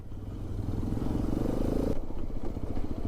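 A Hero Xpulse 210 motorcycle runs steadily at close range, its low engine drone and mechanical clatter holding constant with a slight shift in tone partway through.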